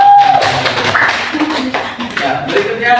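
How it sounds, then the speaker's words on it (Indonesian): Classroom applause for the first student group after a presentation on traditional clothing: scattered hand clapping from a group of people, mixed with voices talking over it. "Berikan tepuk tangan untuk kelompok 1 ya"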